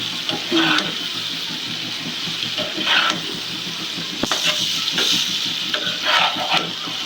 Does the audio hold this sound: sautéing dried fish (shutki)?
yes